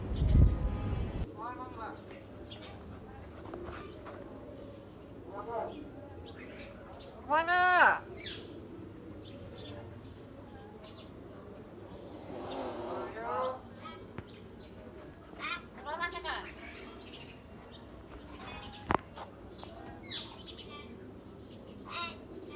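Pet myna birds make speech-like calls that mimic human words, coming in several separate bursts over a quiet indoor background, with occasional chirps and clicks.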